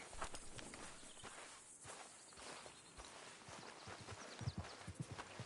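Horse hooves in Red Dead Redemption 2 clop along at a walking pace, with an irregular run of soft thuds over a busy open-country ambience of insects and wind.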